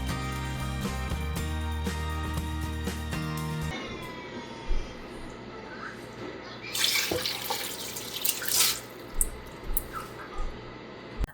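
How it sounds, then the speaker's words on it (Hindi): Water runs into a pot of rice being readied for pulao in a home kitchen, a steady pour giving way to uneven splashes and sloshing, with a loud hum early on and no talking. "अब मैंने इसके अंदर डाले हैं चावल और हिसाब से पानी"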